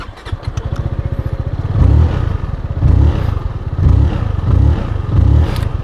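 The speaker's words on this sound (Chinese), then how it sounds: "那我们首先来打火听个声音。" A ZONTES 368G motorcycle engine firing up and settling into idle, with a steady close putter broken by several rhythmic rev-like swells, and no talk over it.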